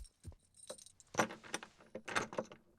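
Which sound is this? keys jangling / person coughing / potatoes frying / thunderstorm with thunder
keys jangling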